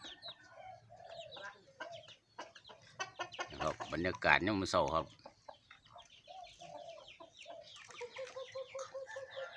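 Chickens cluck and call around a rural Buddhist village, their clucks recurring through the scene beneath someone speaking throughout, with a louder burst of fowl calls partway through.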